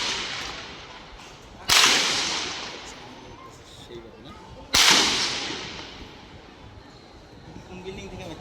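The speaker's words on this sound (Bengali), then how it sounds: "এটা গুলি ডাইরেক্ট" Gunfire during a street protest in Bangladesh: two sharp, loud cracks about three seconds apart, each with a long echoing decay, over a steady background of crowd noise and distant voices.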